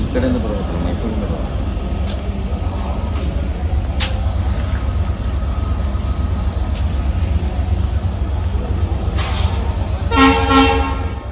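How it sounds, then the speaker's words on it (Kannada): A loud, constant rumble of the Mangalore to Bijapur train pulling in, with people talking over it and a horn blaring near the end. "ನೋಡಿ ಟ್ರೈನ್ ಬಂತು"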